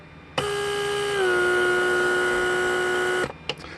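The door lock vacuum pump of a Mercedes S320 switches on with a sharp start and runs as a steady electric whine. Its pitch drops slightly after about a second, then it cuts off abruptly, followed by a few faint clicks.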